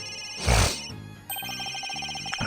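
An electronic cell phone ringtone in the video game Ace Attorney: Dual Destinies chirps in a repeating pattern after a brief whoosh, fairly close and clear.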